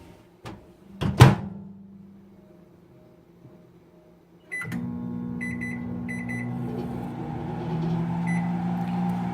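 A microwave oven popping a bag of popcorn: a few beeps and clunks as the door shuts and it starts, then a steady close hum with faint chimes.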